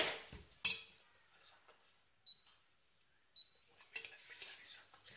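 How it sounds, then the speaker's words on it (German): Sparse spoon clinks against a pan as spices and salt are briefly stirred into marinated turkey breast; a few quiet, scattered metallic taps separated by near silence. "Alles geben und kurz mischen."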